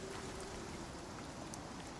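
Steady rain falling during a storm in the survival video game Icarus, a constant soft hiss of drops with no talking.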